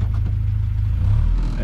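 Land Rover Series III Lightweight engine revving as the right-hand-drive vehicle pulls away, a steady close mid-pitched drone that rises slightly toward the end.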